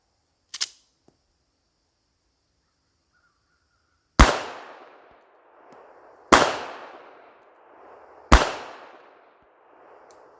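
Handgun shots during a shooting drill with malfunctions: one faint crack, then three loud sharp reports spaced about two seconds apart, each ringing out with a short echoing tail.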